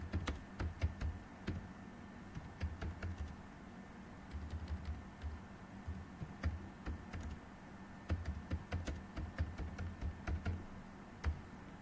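Steady typing on a computer keyboard while writing Prolog code in an online class, rapid soft key clicks in uneven bursts with short pauses, close and fairly quiet, no talking.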